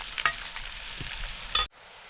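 Small onions sautéing with a pinch of salt in coconut oil for a chicken curry, a close, steady sizzle with a few stirring scrapes that stops abruptly near the end, no voices present.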